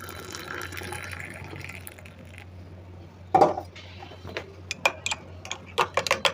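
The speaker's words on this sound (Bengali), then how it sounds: "চাটা ঢেলে নিই।" Jaggery tea being poured into a cup, a brief liquid splash followed by a series of light clinks and taps, close and moderately loud in a quiet room with a low hum.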